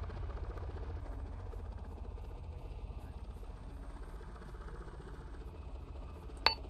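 A helicopter in the video game Arma 3 idles with a steady low rotor drone and chop, sustained and fairly close, ending with a sharp brief click near the end.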